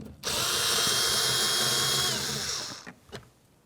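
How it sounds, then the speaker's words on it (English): A power drill spins out a 10mm headed mounting bolt on a Nissan door panel in one steady high whirring run of about two and a half seconds, followed by a couple of light clicks. "Let's remove that bolt."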